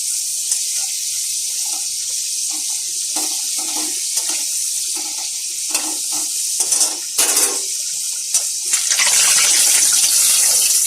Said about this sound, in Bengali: লাল লাল করে আলু ভেজে নিচ্ছি